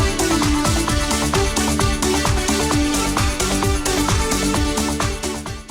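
A thick, punchy synth riff rides over a driving dance beat, loud and continuous with steady four-on-the-floor pulses.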